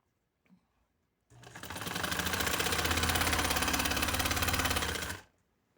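A sewing machine stitches a lawn fabric neckline in one continuous run of rapid, even needle clatter lasting about four seconds, close and alone after a faint tap, then stops abruptly.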